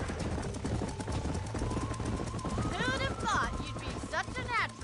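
Horse hooves clip-clopping in the Red Dead Redemption video game, a steady rhythmic patter under game ambience with speech and other voices over it.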